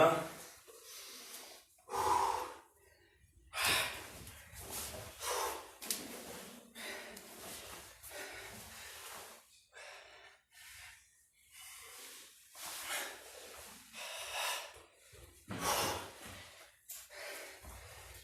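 Deep, forceful inhales and exhales come in repeated bursts with short pauses between them during karate training at home, close and loud, with a voice speaking at times.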